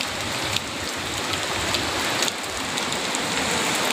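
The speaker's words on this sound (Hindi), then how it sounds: "बहुत वर्षा हो" Heavy rain pours at Chandan Dhara waterfall, a dense, loud, steady hiss of drops striking surfaces with a few sharper spatters, no voices.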